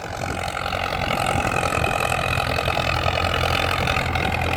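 An old second-hand Ford tractor engine idles steadily with a constant low rumble and rattle, mixed with wind noise buffeting the microphone throughout.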